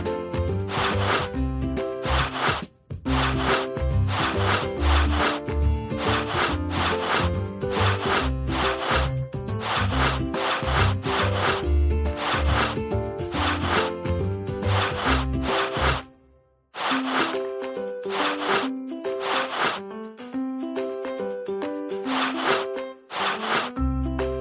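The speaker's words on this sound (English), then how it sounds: "And now some serious rubbing." Vigorous, rhythmic rubbing strokes repeat rapidly and loudly in a steady back-and-forth pattern, with a brief pause partway through before the scrubbing continues.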